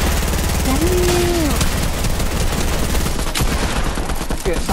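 Rapid automatic turret fire from a Fortnite match pours out as a continuous, loud burst of gunfire that fills the whole stretch, with game effects and voices woven underneath.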